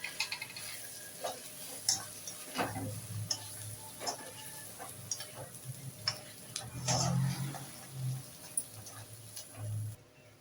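Mutton varuval with coriander is stirred in a pan: a spoon scrapes and clacks at irregular intervals over a soft, steady sizzle, with a few fuller stirring bursts.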